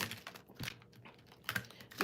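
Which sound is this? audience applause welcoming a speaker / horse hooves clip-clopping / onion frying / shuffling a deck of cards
shuffling a deck of cards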